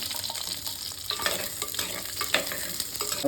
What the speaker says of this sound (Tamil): நான் அதில் இந்த எண்ணெயிலே வெங்காயம் போட்டுற போகிறேன்